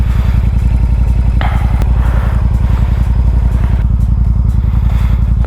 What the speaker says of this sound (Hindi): तब तक अपनी बाइक को कोल्ड स्टार्ट करेंगे।